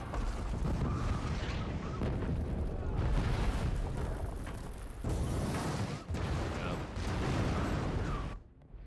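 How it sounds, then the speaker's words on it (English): Loud, booming blasts from The Dark Knight Rises roll one after another in a dense, cinematic rumble, with deep bass swells and brief drops between them. "Boom, boom, explosions. They perfectly exploded on either side of the road."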